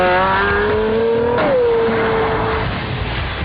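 A Pagani Zonda supercar accelerating hard, its engine screaming loud and close as it climbs through the revs, briefly dipping on a gear change, then rising again in a sustained howl under heavy wind and road noise.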